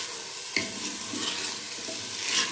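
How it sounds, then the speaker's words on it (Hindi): Gosht (meat) frying in a pan, a steady close sizzle with a few sharper scrapes and stirs of a spoon against the pan, no voices. "गोश्त अच्छी तरह फ्राई हो चुका है।"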